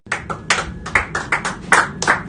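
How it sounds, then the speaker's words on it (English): A group of lads clapping in an uneven, quick rhythm of about a dozen distinct claps, close and fairly loud, with no voices over them. "Everyone clap them off"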